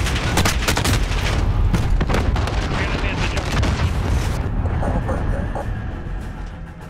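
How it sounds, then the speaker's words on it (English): A cruise missile strike in Call of Duty, a dense, rumbling barrage of loud booms and blasts that rolls on continuously before easing off slightly near the end. "Allied cruise missile one."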